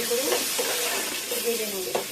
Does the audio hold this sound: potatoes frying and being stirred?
yes